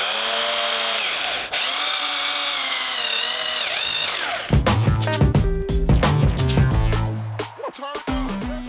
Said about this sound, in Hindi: तो चलिए फ्रेंड्स यहाँ पर हम छेद कर लेते हैं।